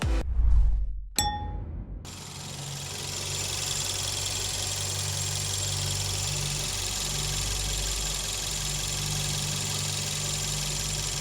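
A 2020 Renault Samsung QM6 SUV engine idles in a steady, even hum with a low drone, preceded by a couple of sharp metallic clangs and a ding in the first two seconds; no talking.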